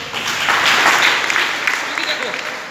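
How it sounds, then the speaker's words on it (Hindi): An audience gives a short burst of dense, loud applause for Jatin sir at a motivational seminar, the clapping swelling quickly and then thinning slightly. "एक बार जतिन सर के लिए भी तालियां हो जानी चाहिए"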